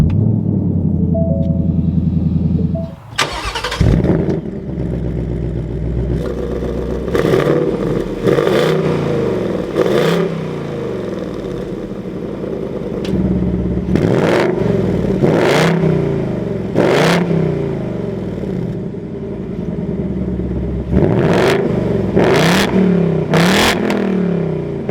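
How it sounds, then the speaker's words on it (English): A 2021 Ford Mustang GT Premium with manual transmission cranks and fires up, then revs repeatedly, its loud, close engine surging in sharp bursts over a rumbling idle. "keeping my foot on the clutch and the brake, we can go ahead and fire it up"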